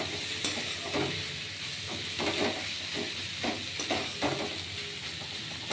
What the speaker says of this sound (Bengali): এটা মাঝে মাঝে এরকম করে নেড়ে আপনারা ভাজা ভাজা করে নেবেন